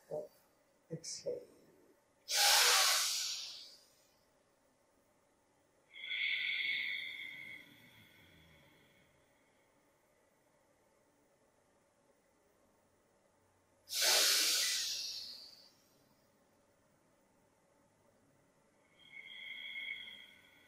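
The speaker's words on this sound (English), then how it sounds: "So that will produce some special sound like snoring sound." Snoring-like throat breathing on the exhale during a seniors' yoga class: two strong, breathy rushes of air spaced well apart, with softer tonal sounds in the quiet gaps between them.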